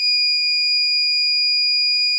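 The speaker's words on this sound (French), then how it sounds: "cette tige va déclencher un petit switch qui va émettre un bip et qui va vous informer que le réservoir est presque vide" Steady electronic warning tone from the low-primer alarm switch on a Dillon XL650 reloading press, a loud continuous beep holding for about two seconds with no talk.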